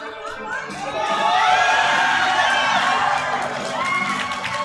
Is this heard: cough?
no